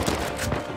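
Gunfire from the video game Uncharted 4, a dense, continuous burst of overlapping shots filling the short moment at steady loudness with no talk.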